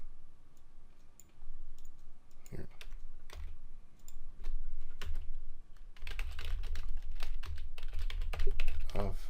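Someone types on a computer keyboard close by, with scattered keystroke clicks that grow denser and faster in the second half. A voice can be heard faintly in the background.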